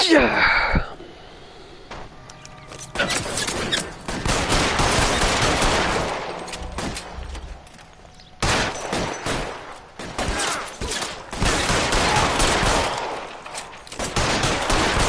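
A shootout in the LA Noire video game, with loud bursts of rapid gunfire and volleys that come in long stretches, broken by short pauses, as voices speak over parts of the action.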